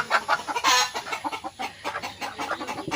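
Native village hens and a rooster cluck close by in quick, busy overlapping calls, with no talking.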